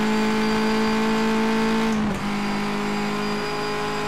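A race car engine in the sim World Racing Series on a wet lap, holding a loud steady high-revving whine that briefly dips at a gear change before carrying on, close and with no talk.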